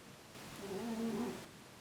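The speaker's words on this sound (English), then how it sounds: "my cat is snoring" A single soft, drawn-out snore from a cat, a faint whistling tone that swells and fades over about a second, heard alone with no talking.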